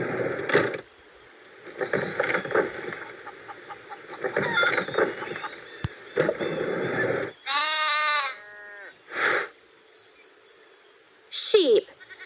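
Sheep bleat in several loud, close, wavering calls, each separated by short pauses, along with other farm-animal cries.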